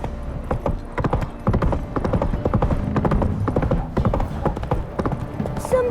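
In The Witcher 3, the horse Roach's hooves beat in a fast, steady clip-clop rhythm. The galloping is clear and close and runs the whole time, with faint game ambience behind it.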